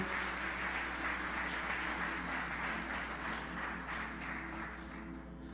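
A congregation at a church service applauding steadily throughout, with a low sustained hum underneath.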